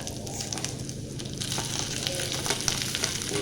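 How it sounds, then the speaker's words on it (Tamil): Tomatoes go into a pan of Sri Lankan style pork masala curry, which keeps frying with a steady, close sizzle and crackle, along with occasional stirring scrapes. The sound is continuous throughout, with no talking. "அடுத்தபடியாக நான் தக்காளியை சேர்க்க போகிறேங்க."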